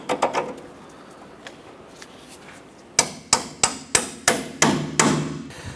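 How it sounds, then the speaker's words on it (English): A bolt on a 2008-2012 Honda Accord's front lower control arm is tapped into place with a hammer: a run of about nine sharp metallic strikes at a steady rhythm, close and loud, after a few quieter knocks. "We're going to go ahead and tap the bolt on the other side."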